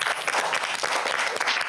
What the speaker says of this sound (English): So let's give them a big round of applause.